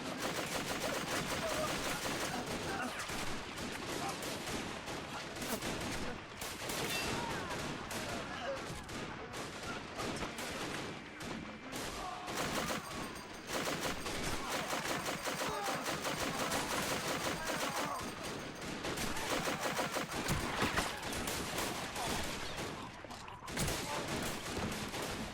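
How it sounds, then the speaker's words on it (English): Dense gunfire crackles nonstop in a WW1 winter trench battle video game, with rapid rifle and machine-gun bursts and bullet impacts layered into a loud, chaotic, continuous barrage. "Look at all the bullets impacting so close to that French soldier."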